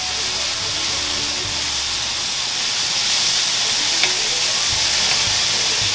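Zucchini cooks in butter in a pan on a farm-tour cooking demo, giving a steady close sizzle and hiss with faint stirring scrapes throughout.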